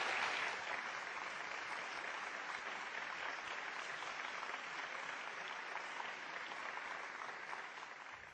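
An audience at an aging-in-America event gives steady, dense applause to welcome panelists onto the stage, sustained and even throughout before tapering slightly at the end.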